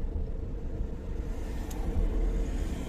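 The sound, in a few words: cars passing on road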